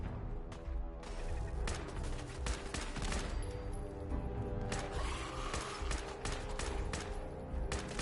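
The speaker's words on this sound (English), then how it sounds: "Watch it! That turret's live!" Continuous loud turret gunfire in Fallout 4, a dense, unbroken clatter of rapid shots and impacts with no pauses throughout.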